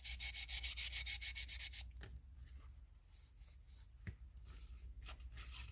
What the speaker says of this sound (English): wet sanding.